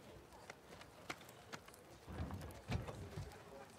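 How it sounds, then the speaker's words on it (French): Faint horse hoof clip-clops from the video game The Last of Us Part II, at a walking pace, spaced and soft, with a low rumble building underneath toward the end. "C'est notre cheval"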